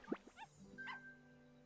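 Dog in the game Heartopia giving a few short yips and whimpery barks, quiet and close, followed by a faint sustained tone.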